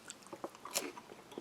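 A light wheat cream cracker from an Australian Army ration pack is bitten and crunched up close, giving a few sharp, crisp cracks followed by quieter chewing crunches, with no talking.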